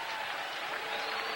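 A baseball crowd at Miller Park in Milwaukee rising with sustained cheering and applause, a broad steady roar from many fans during a Reds at Brewers game.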